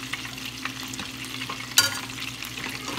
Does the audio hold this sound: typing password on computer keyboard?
no